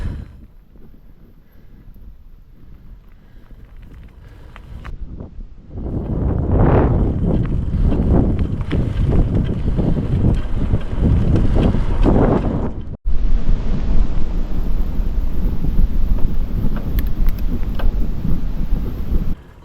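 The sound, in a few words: wind blowing on hilltop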